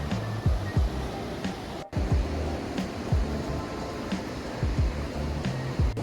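Whitewater rapids rush through a creek beside the Bear Paw Trail in Cherokee National Forest as a steady broad roar of moving water. Low thuds and bumps recur close by, and there is no talking.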